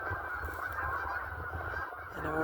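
Geese honk on a lake, a loose chorus of calls carrying faintly over steady outdoor background noise.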